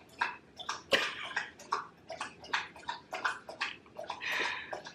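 A dog laps water from a bowl in a steady rhythm of wet slurps, roughly two per second, close to the microphone, with one sharper splash early on.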